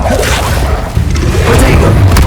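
Levioso spell cast in Hogwarts Legacy, a loud whooshing boom with a heavy low rumble, sustained for a couple of seconds with no talking over it.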